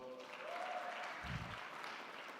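A large audience applauds engineers from South Africa during a presidential inauguration ceremony, a continuous wash of clapping at moderate volume lasting a couple of seconds.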